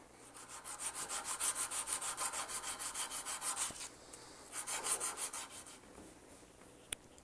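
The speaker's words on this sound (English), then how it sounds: "And then I'll do a little finish sanding in that edge." Rhythmic hand sanding on the edge of a turned cherry wood rolling pin, a steady back-and-forth rasp in quick strokes, pausing briefly before a second shorter burst, then a small tap.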